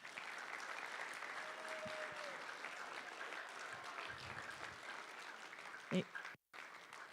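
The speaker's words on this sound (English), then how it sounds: "If we can give them a round of applause." A church congregation at a Wednesday evening service applauds the sound crew. Moderate, fairly distant clapping carries on steadily, with faint voices and a brief bump near the end.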